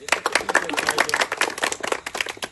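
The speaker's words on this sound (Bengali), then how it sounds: "প্রথমে আয়োজক কমিটি যারা আছে তাদের জন্য একটা আমরা সবাই হাততালি দিই" An audience claps for the organizing committee at the opening of a muddy, grassy football ground. The applause is a dense, steady patter of many hands, fairly close, lasting the whole moment.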